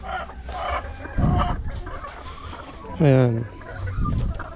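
A batch of egg-laying chickens clucking in a poultry pen, with short close clucks and a louder rising squawk midway, while a person speaks briefly.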